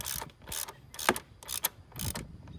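A ratchet clicks in short bursts while tightening the oil drain plug on a Cadillac CTS during an oil change, several distinct close ratcheting runs separated by brief pauses, with no talking.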